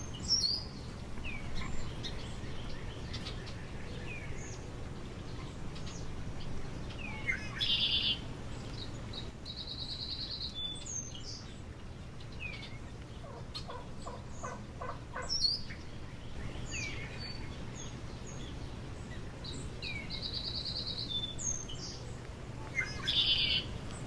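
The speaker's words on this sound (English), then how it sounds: "Could we get like maybe 30 seconds of just birds?" Birds call in a zoo's North America aviary: quiet, scattered chirps and tweets, with a few louder turkey gobbles breaking in now and then over a low background hum.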